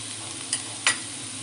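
Vegetables for Italian rice cook uncovered in a pan with a steady soft sizzle, broken by two brief scraping stirs of a spoon, close and without voices.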